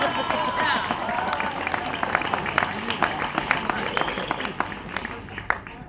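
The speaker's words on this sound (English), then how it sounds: "your applause really means a lot to me" Audience clapping at an annual barbecue gathering, scattered sharp claps over a crowd murmur, moderately loud and thinning out toward the end.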